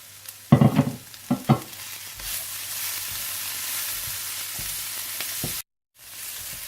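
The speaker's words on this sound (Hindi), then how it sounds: "थोड़ा सा भूनने के बाद आप इसमें ताजा हरा धनिया डाल दें और अच्छी तरह से मिला लें।" Samosa filling with fresh green coriander fries in a pan while a spoon stirs it, starting with several loud scraping strokes, then settling into a steady close sizzle with a brief dropout near the end.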